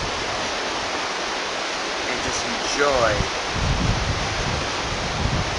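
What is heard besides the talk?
sea water rushing past ship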